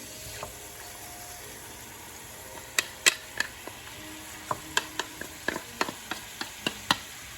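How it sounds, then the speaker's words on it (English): Chopped onions and garlic sizzle in a pan over medium heat, a soft steady fry punctuated by sharp clicks and scrapes of stirring, with no talk. "Going to add our onions and garlic I've already got chopped up in here together."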